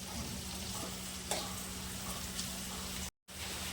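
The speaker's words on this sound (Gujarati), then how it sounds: "અને તેમાં જ આપણે આ લસણ, આદુ, મરચાંને નાખી દઈશું અને થોડું ગોલ્ડન બ્રાઉન થવા દઈશું" Garlic, ginger and chili sizzle in hot oil in a pan, a steady close crackling fry with a few soft pops, briefly cutting out near the end.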